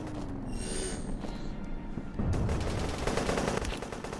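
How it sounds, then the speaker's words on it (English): Rapid gunfire in a D-Day World War II video game, dense bursts of shots that grow louder and busier partway through, with no talk. "Someone's shooting me."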